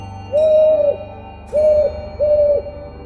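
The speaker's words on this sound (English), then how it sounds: "Pete hears a strange hooting sound." Three clear owl hoots in an animated storybook setting, each a smooth sustained tone, the first longer, then two shorter calls in quick succession over a quiet background.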